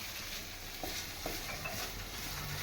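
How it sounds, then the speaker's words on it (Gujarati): Green turmeric roasting in ghee over a low flame, a steady, even sizzle that continues throughout with faint occasional stirring taps and no talking. "તો આપણે ધીમા તાપે અને હળદરને શેકી દઈશું।"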